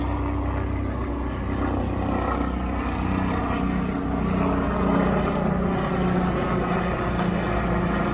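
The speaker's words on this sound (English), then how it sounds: "Here comes the helicopter, the life flight." A medical rescue helicopter drones steadily overhead near a bad road wreck, its low rotor rumble constant and fairly loud throughout, with no voices.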